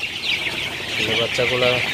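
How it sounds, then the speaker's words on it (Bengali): Twenty-day-old Sonali super hybrid chicks cluck and peep in a poultry shed at night as a dense, steady flock chatter, with a few louder clucks toward the end. "আপনারা দেখতে পাচ্ছেন আমার মুরগির সেটে আসলে সোনালী বাচ্চাগুলো"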